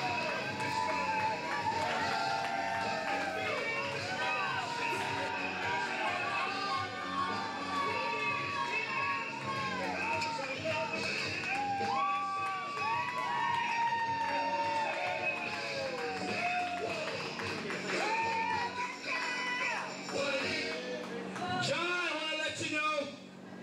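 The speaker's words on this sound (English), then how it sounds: "And the crowd is going nuts." A wrestling crowd at an AAPW tag team title show goes wild, with continuous loud cheering, shouts and excited voices, including high-pitched yells, swelling in a dense roar for the whole stretch.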